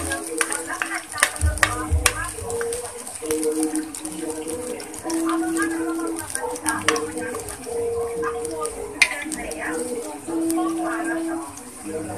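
Garlic fries to golden brown in a pan for homemade bagoong alamang, a steady sizzle broken by repeated scraping stirs, while someone talks over the cooking throughout.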